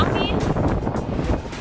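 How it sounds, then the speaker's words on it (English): Strong outdoor wind buffets a microphone on a city street, producing dense, low, blustery rumbling that swells and dips across the short stretch and largely buries a voice. "I don't even know if you can hear me right now because of the wind"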